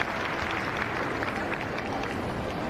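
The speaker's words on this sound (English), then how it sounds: "you can hear the crowd acknowledge that." Crowd applause at a show jumping event, a dense, steady wash of clapping from many spectators heard at a distance, continuous and even throughout.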